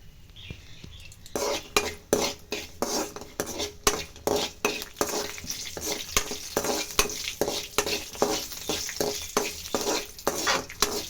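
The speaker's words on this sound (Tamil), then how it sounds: "இப்போ கடலை போட்டாச்சு நல்லா வ வறுத்துக்குங்க கலர் சேஞ்ச் ஆகிற வரைக்கும்" Steady sizzling of peanuts frying in hot oil, with repeated scraping and clinking of a spoon stirring in a pan, no voices.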